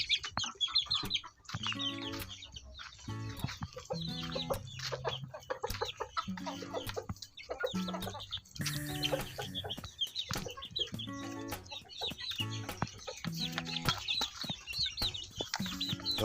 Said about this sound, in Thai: ลูกไก่เราก็จะชอบกินมากเลย